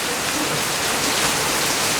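Rain falling on a rainy Saturday evening, heard as a steady, dense hiss that holds at an even level for the whole stretch, with no voices over it.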